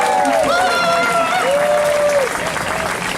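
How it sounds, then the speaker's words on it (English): Crowd applause outdoors at a parade opening ceremony, honoring a band, dense clapping throughout with a voice talking briefly over it. "let's give them a round of applause"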